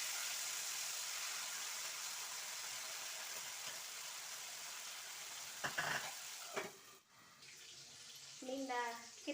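Fish frying in oil gives a steady, loud hiss that fills the scene, broken near the end by a few clatters and a short burst of voice.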